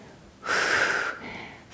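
A single long, audible exhale through the nose during a yoga flow, breathy and close, followed by a softer trailing breath.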